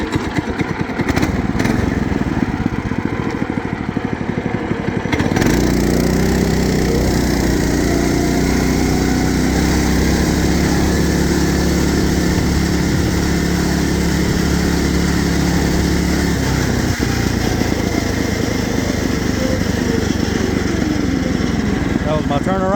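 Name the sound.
racing lawn mower engine during test ride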